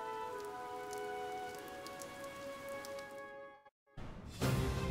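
Steady rain patters down across a surface in a fantasy video game scene, soft and continuous over a faint tonal hum, briefly cutting out before returning louder.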